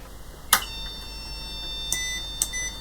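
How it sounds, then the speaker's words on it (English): An Olympia ESW 100-KSR electronic typewriter under repair sounds its power-up tone, a steady high electronic beep with three short clicks or blips spaced across the clip, close and fairly quiet, with no talking. "as expected we're getting the tone again"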